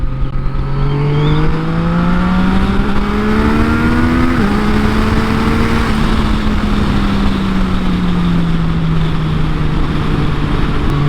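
A Yamaha MT09 motorcycle engine drones loudly and steadily in third gear at about 60 mph and 5,000 RPM, its pitch climbing as it accelerates, dipping briefly, then easing back down, close up and alone.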